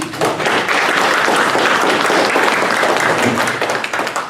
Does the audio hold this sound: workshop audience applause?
yes